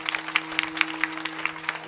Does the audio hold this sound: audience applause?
yes